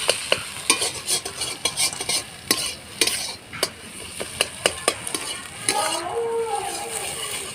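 Eggs with a little turmeric fry in a pan while a spatula stirs and scrapes them, sharp repeated knocks and scrapes over a continuous close sizzle.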